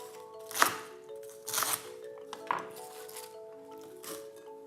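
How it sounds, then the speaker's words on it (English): Knife strokes coarsely chop cabbage for curtido on a board, a handful of separate thunks spaced about a second apart, close and moderately loud, with faint music underneath. "begin to coarsely chop the cabbage, adding it to the bowl"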